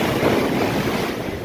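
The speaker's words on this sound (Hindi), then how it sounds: "शांत मन से आप समुद्र की आवाज़ सुनो, वेव्स की" Ocean waves at Paradise Beach, Pondicherry, a steady broadband wash of surf with wind buffeting the microphone, loud and continuous with no talk.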